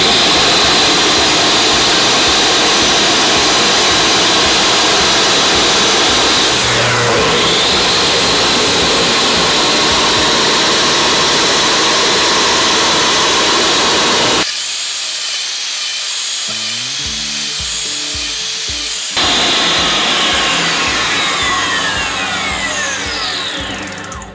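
A tile saw fitted with a resin bond diamond blade runs steadily with a loud, constant hissing roar, briefly changing tone midway before resuming its continuous whine.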